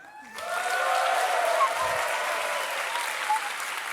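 A conference audience at the NGRome 2019 tech talk bursts into loud, sustained applause with cheering and yells, a dense crowd clapping that carries on to the end.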